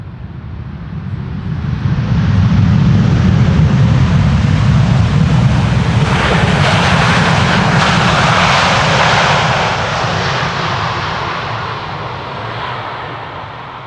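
A KLM airliner inbound from New York JFK lands on the Polderbaan runway 18R at Amsterdam Schiphol, a loud rushing jet roar that swells as it passes close by, then slowly fades into a long, steady rumble.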